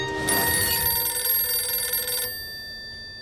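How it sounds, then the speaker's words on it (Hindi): An old-style telephone bell rings loudly indoors for about two seconds in a continuous metallic jangle, then cuts off, leaving a faint lingering hum. "सत्तो, सत्तो, न जाने कौन नालायक फोन कर करके मेरे अखबार का समय खराब कर रहा है"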